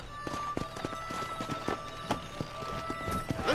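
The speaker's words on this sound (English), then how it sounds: "The horse!" Rhythmic clip-clop of horse hooves at a steady trot, fairly close, with a brief whinny and some game-like background tones, in the video game Red Dead Redemption: Undead Nightmare.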